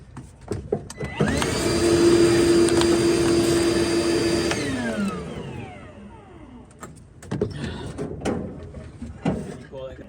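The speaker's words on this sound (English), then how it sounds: "I'm going to go ahead and get a vacuum up on that." A vacuum cleaner sucking up rust whirs up close, rising to a steady drone then winding down, followed by clunks and handling noises.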